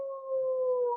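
A voice imitates a werewolf's howl, one smooth, sustained tone lasting about a second with a faint rise in loudness, clear and alone.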